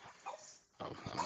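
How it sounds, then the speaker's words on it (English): Dogs give brief yips and whimpers indoors, faint and short, with a moment of quiet between bursts. "It's getting the dogs riled up, huh?"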